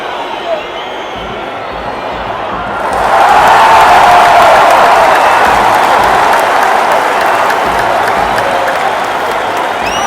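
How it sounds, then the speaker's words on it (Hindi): Tunisian football fans in a packed World Cup stadium clap and roar, the crowd noise swelling after a few seconds into a loud, sustained wall of applause and cheering that fills the whole stretch. "तुनीसिया का क्राउड इतना पैशनेट है, इतना ज़बरदस्त है, अपनी टीम की एक एक मूव की सपोर्ट कर रहा है, एक एक बात पे तालियां बज रही हैं और इतना शोर है"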